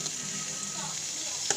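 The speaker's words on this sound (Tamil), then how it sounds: "இந்த பன்னீர் இதில் போட்டு நல்லா ரோஸ்ட் பண்ணி எடுத்துக்கலாம்." Paneer roasts in ghee and oil, a steady, moderate sizzle with gentle bubbling and a faint clink near the end.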